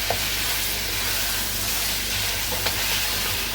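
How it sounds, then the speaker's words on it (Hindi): Garlic ginger paste fries with mutton in a karahi, giving a loud, continuous close sizzle and hiss with a few faint stirring clinks. "लहसुन अदरक के पेस्ट को यहाँ पर हम 2 से 3 मिनट अच्छे से भून लेंगे।"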